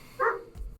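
A single short dog bark, close but fairly quiet, alone in a brief moment indoors.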